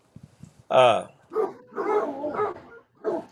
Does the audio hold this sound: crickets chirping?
no